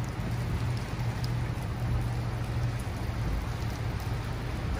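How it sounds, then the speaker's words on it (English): Heavy rain pours steadily during a thunderstorm in Big Bear, California, a dense close patter drumming on surfaces without pause, with no speech. "Now, some of this rain is heavy, heavy, heavy."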